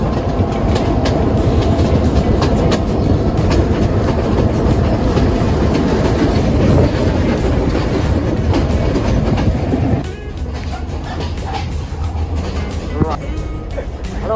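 A train at Colombo Fort station rumbles loud and close with steady rolling noise and wheel clatter, dropping to a quieter hum near the end.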